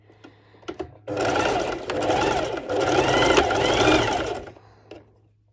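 Sewing machine stitching bikini top ruffles, a few quiet clicks and then a close, loud run of rapid whirring stitches lasting several seconds before stopping.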